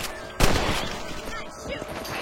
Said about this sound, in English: You're a good shot, Mr. Martin.